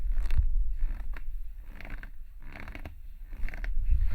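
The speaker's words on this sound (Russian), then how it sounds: "слышно только легкое такое поскрипывание самой кожи, не механических частей, а кожи" A leather office chair treated with WD-40 is rocked back and forth, giving faint, soft creaks of the leather itself in a slow, regular rhythm of about five strokes, close up and without voices.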